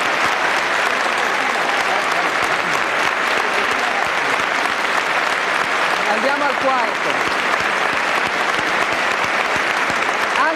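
Dense, steady applause from a large crowd at a 1992 political rally in Padova fills the whole stretch, loud and continuous, with a voice speaking briefly over it.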